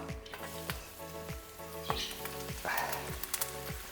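A Persian herb frittata mixture hits hot olive oil in a frying pan, a close, fizzy sizzle punctuated by a series of soft rhythmic taps and scrapes.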